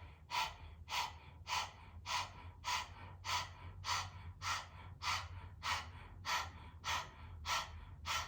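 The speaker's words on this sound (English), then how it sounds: "We'll come into breath of fire, a panting breath through the nose." Rapid rhythmic breath-of-fire panting through the nose, about fourteen sharp, evenly spaced exhalations over eight seconds, close and breathy over a low background hum, no talking.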